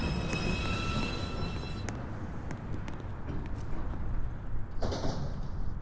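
A downtown express 2 subway train approaches a station platform at Beverly Road during evening rush hour, a steady low rumble with metallic screeching and clattering of wheels on rails growing busier toward the end.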